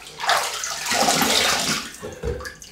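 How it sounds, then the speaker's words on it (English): Cold water runs steadily from a tap for a rinse after a wet shave with Scottish Fine Soaps, close and fairly loud, with a brief splash near the end. "Cold water rinse."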